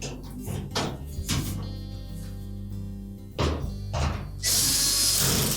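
A power driver whirs and ratchets in repeated bursts, tightening screws on a Whirlpool washer access cover, close and fairly loud, ending in a harsh, sustained buzz.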